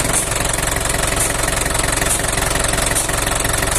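An Isuzu 4BC2 diesel engine idles close by on a test, its even rhythmic clatter and low throb holding steady and loud the whole time.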